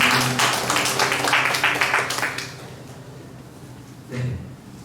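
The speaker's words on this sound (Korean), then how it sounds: "우리 하나님께 영광의 박수 올려드리겠습니다." Church congregation at a high school youth worship service applauding, a dense burst of clapping that fades out after about two seconds, followed by quiet room tone and a brief voice.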